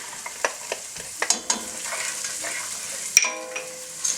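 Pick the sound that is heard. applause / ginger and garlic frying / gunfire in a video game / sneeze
ginger and garlic frying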